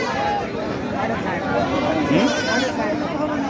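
Sheep bleat amid the steady hubbub of a crowded goat market in Taherpur, with loud nearby talk and chatter running throughout, the animal calls partly buried under the voices.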